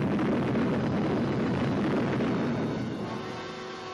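A huge, sustained roar from the first atomic bomb test explosion on July 16, 1945, loud and rumbling throughout before slowly easing off toward the end, with no voices.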